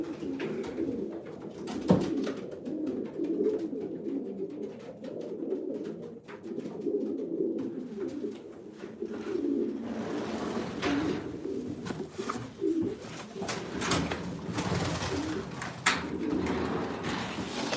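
Pigeons coo steadily in a loft over a rustling, scuffling bed of wings and bodies as a dominant cock squares off against a hen, with sharp flaps and knocks breaking through near the end.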